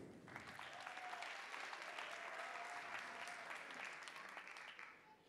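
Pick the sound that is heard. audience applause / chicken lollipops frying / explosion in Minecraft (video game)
audience applause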